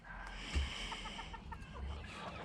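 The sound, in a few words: silkie rooster crowing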